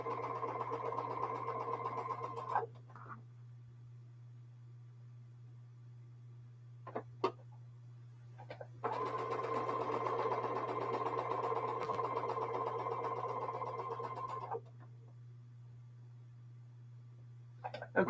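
A sewing machine stitches half square triangle quilt pieces in two steady runs, each a smooth, even hum lasting several seconds, separated by a quiet pause with faint clicks.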